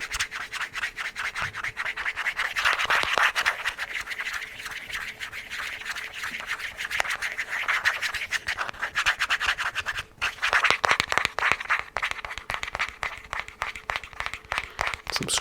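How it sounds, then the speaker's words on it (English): Fingernails scratching across a smooth plastic surface with little texture, a close, steady, dry rasp with rhythmic strokes and no talking. "I can scratch on like just the plastic a bit"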